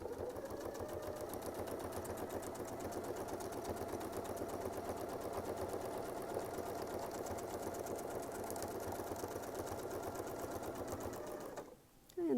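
A sewing machine stitches steadily along a Westalee Yin and Yang circle template, a fast continuous mechanical whirr lasting most of the clip before stopping abruptly near the end.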